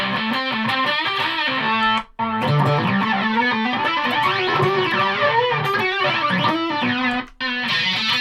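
Heavily distorted electric guitar played through a Yamaha Magicstomp multi-effects unit on its smashing fuzz setting, loud and sustained with two brief cuts to silence, no voices.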